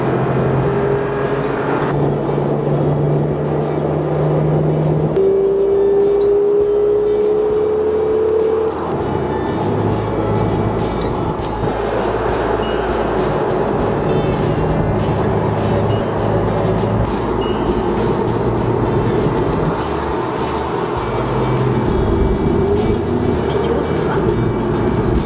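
A Porsche 911 GTS with a 3.0 V6 twin-turbo engine drives through Switzerland, its engine droning steadily from inside the cabin, pitch rising and shifting through gears, with faint background noise and no talk.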